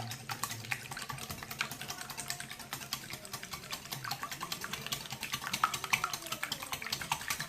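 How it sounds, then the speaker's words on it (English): Vanilla is whisked into cookie batter for cranberry oatmeal cookies, giving quick, rapid clicking and scraping ticks of a whisk against a bowl, fairly faint and continuous with no talk. "And we're going to give this a good whisk."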